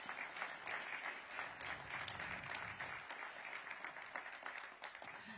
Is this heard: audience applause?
yes